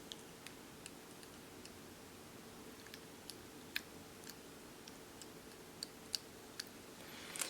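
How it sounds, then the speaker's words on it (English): Soft, quiet clicks and ticks spaced about every half second as someone bites down on a Chewy to seat clear aligners, a steady chewing rhythm against a faint low hum. "I use the Chewy to just chew."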